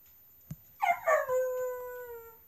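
A puppy in a video game gives a brief yip, then a rising whimper that stretches into a long, clear, fading howl, close and alone.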